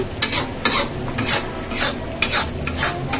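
Chicken fry in gravy stirred in a pan over medium heat, with a spoon scraping in regular strokes over a steady soft sizzle, close and loud, with no voices.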